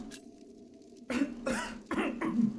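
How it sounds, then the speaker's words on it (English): Four harsh, close coughs in quick succession break out after a quiet stretch of low room hum, each burst loud and raspy, with no talking around them. "I don't like the sound of that cough."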